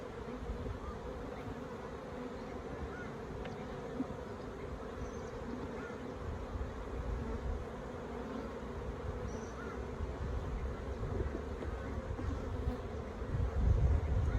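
Honeybees buzz around an open Flow Hive 2 in Orara Valley, a steady low drone of many bees with occasional individual bees flying past, soft and continuous, rising slightly at the end.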